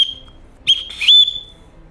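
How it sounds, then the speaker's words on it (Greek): A survival whistle blown at close range: a brief shrill blast, then after a pause two more piercing, loud blasts in quick succession. "Έχει και από την άλλη μεριά, έχει τη σφυρίχτρα."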